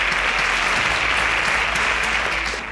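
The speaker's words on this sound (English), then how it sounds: "A round of applause for all of them." An audience at a quiz show claps in a dense, continuous round of applause, loud and close throughout and easing slightly at the end.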